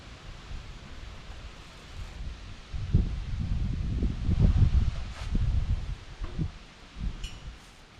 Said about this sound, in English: Boy, these are some windy fall days, this I can tell you.